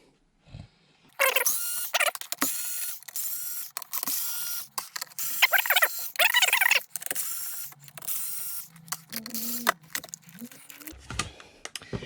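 Screws being unscrewed from the top of an Inokim OXO electric scooter, a run of close clicking, ratcheting and scraping sounds in irregular bursts, with short pauses between turns.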